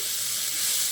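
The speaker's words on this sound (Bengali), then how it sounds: "আমার আলু আর বেগুন ভালো করে ভাজা হয়ে গেছে।" Potato and eggplant pieces fry in spiced oil, an even close sizzling hiss with faint bubbling underneath, steady and unbroken for about a second, with no voices.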